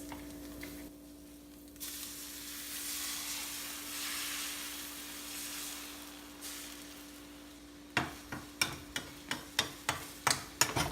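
A frying pan holds a veggie scramble of egg and egg whites. A steady sizzle rises and falls for several seconds, then a series of regular scraping stirs follows, fairly quiet overall.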